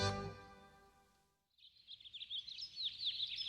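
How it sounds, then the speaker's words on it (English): Birds chirp near vineyards in Cognac, France, with quick, bright tweets repeating at a moderate distance after a brief sustained tone fades out. "I awake to the serenity of birds chirping"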